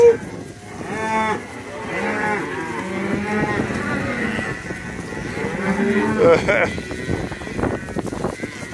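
Cattle on a farm moo repeatedly in a herd, calls overlapping at close to moderate range, while people talk over them.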